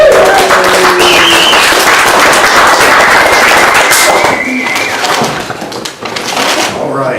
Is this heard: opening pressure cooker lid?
no